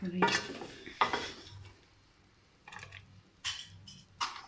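Cooked radish for mooli paratha is cut and handled in a metal pot, giving several sharp clinks and scrapes of utensil against metal, spaced out with quiet gaps between them, close by.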